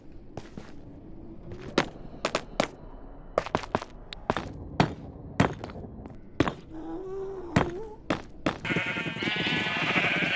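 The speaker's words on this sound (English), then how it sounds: "More breeding of the sheep." Sheep bleat repeatedly in Minecraft, short sharp bleats coming in irregular bursts with brief gaps. The bleats are close and loud over a quiet background, and one longer wavering bleat stands out partway through.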